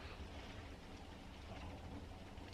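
Rain falls steadily outside, a faint, even hiss of drops with no distinct gaps.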